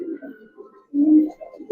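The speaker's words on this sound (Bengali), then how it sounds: "দুইটা কবুতরই মাশাআল্লাহ খুব সুন্দর কবুতর" Giribaz pigeons coo softly up close, low throaty murmurs broken by a short pause and then a fuller, rolling coo.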